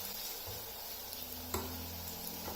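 Fennel sautés in a pan with a steady, soft sizzle throughout, broken by a faint tick or stir near the middle, heard up close and alone without speech.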